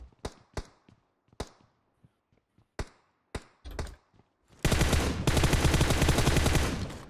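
PUBG Mobile gunfire: a string of sharp single shots spaced irregularly, then a loud sustained burst of rapid automatic fire at the end.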